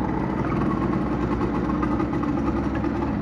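Outboard boat engine running steadily during a test run, a loud, close, continuous droning idle with no change in pitch and no talking.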